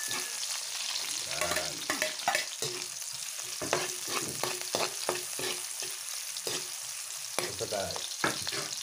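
Onion and then ginger sautéing in a pan for Filipino catfish adobo in coconut milk, a steady sizzle broken by repeated scraping stirs of a utensil, with a voice speaking briefly over it.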